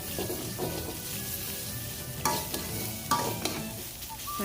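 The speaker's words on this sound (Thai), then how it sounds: "เสร็จแล้วเราใส่เนื้อหมูลงไปผัดเลยค่ะ ผัดให้เข้ากับพริกแกงนะคะ" Pork stir-frying with Thai panang curry paste in a pan, a steady close sizzle with scraping spatula strokes and a few sharper clanks of utensil against metal, no voices.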